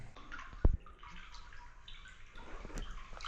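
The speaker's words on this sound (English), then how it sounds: "The water's frozen in the pipe. There's a bit of snow melt trickling down it." Snowmelt trickles down a frozen water pipe outdoors on a snowy mountain hiking circuit, a soft steady watery sound with a brief louder knock near the start and faint background noise.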